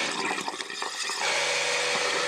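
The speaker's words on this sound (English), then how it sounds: "we now want to drain the hot and cold outlets at the bathroom sink here, starting with the cold" Water gushes noisily from a bathroom sink tap close by as the cold outlet is drained, a loud steady rush that settles into a smoother, constant flow partway through.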